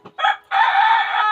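Roosters on a family farm crow loudly and close by, a short first call followed by a long, drawn-out cock-a-doodle-doo with no one speaking.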